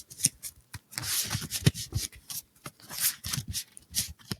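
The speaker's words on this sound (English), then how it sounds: "let's do a little ASMR shuffling for you real quick" Star Wars Unlimited trading cards in Gamegenic sleeves are shuffled up close, a run of soft papery riffles, slides and taps in irregular bursts with brief pauses between, quiet and intimate with no talking.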